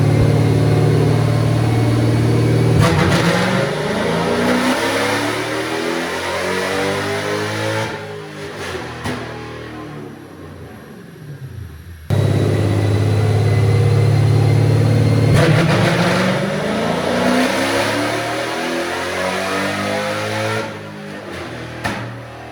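A Dodge Charger R/T with a 392 cam revving on a dyno, the engine climbing through repeated loud accelerating pulls with rising pitch, then dropping off, heard twice in succession.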